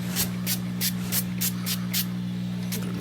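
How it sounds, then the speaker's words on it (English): Short repeated hisses of spray-on butter being sprayed onto a potato, about eight quick bursts in a steady rhythm, close and clear over a constant low electrical hum. "And we just use our spray on butter for the potato."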